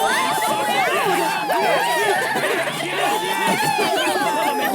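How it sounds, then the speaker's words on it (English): A party in Final Fantasy VII Rebirth cheers and chatters after a race win at Gus's place, a lively crowd babble of overlapping excited voices and whoops, steady and close throughout. "Gus cheering along with their party"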